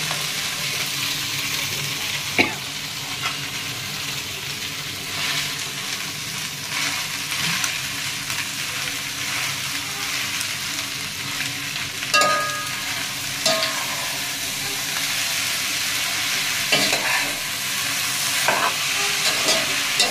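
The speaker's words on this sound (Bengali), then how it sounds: "সঙ্গে ভাত উঠছে, তো এখন নুডলসটা দিয়ে দেবো" Noodles stir-fried in a pan sizzle steadily, with scattered scrapes and clinks of a utensil against the metal, close and continuous with no talk.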